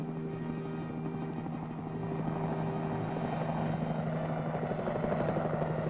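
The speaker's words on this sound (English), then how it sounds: "The possibilities of pickup and delivery of artillery by helicopter is now in active" Helicopter lifting and delivering a 75mm pack howitzer: a steady, loud rotor and engine drone with a constant hum, growing slightly stronger partway through, heard alone.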